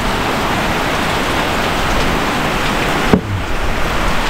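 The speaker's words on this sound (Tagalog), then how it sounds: "Naabot tayo ng ulan ngayon. Ayan oh. Ang lakas." Heavy rain pours down with wind at a campsite in Pangasinan, a dense, loud, unbroken roar with one brief knock near the end.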